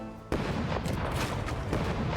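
A cannon fires in the pirate video game Rogue Waters, a sudden heavy boom that gives way to a dense, sustained roar of blasts and crashing debris.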